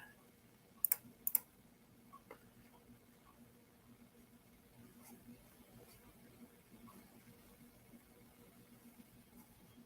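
A computer mouse clicks during screen sharing: a few sharp, isolated clicks come early, then sparse faint ticks follow over a quiet room background.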